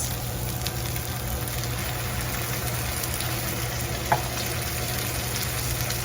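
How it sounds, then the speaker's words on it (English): Enchilada sauce poured over tortillas in a frying pan sizzles in a steady, even crackle. The pan runs close and continuous, with a faint low hum beneath. "this is where we're going to add in the enchilada sauce"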